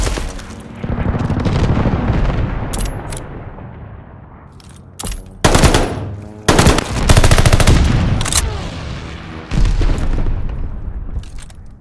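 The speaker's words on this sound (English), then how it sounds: "Hostile strafe inbound!" A hostile strafe run rips through a 3v3 bomb-mode shooter match as long bursts of rapid automatic gunfire, punctuated by sharp booming impacts and brief lulls, loud and close throughout.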